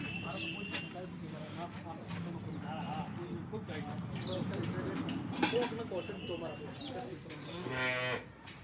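Dairy cows moo at a small farm with about ten head, including a freshly calved milking cow, sounding alongside steady talk from people nearby, with a louder, drawn-out low call near the end.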